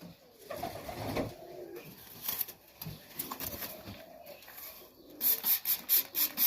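Several junior highflyer pigeons coo and shuffle in a loft, with scattered low coos and rustling, then a run of sharp rhythmic rasping or scraping bursts at the end.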